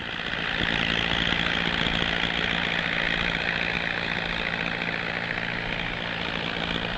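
Hawker Hunter jet aircraft sit idling at base, their engines giving a steady, even whine and roar that holds at a constant level throughout.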